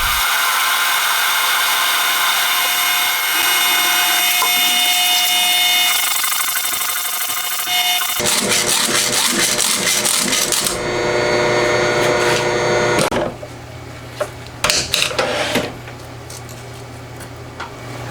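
A metal lathe parts off a workpiece: a steady high whine of the spinning machine shifts into harsher grinding and chattering cutting noise, ending with several sharp clunks and pauses close by.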